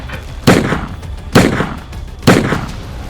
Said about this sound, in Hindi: गुस्से में 5 से 6 बार गोली चलाई।